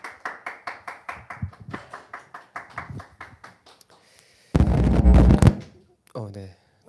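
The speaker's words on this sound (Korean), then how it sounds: "나오실 때 박수로 환영해 주시기 바랍니다." Audience clapping to welcome a speaker at a worship gathering, a slow rhythmic handclap pattern with voices over it, then a sudden loud burst of cheering and applause followed by someone speaking.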